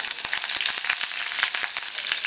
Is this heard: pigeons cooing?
no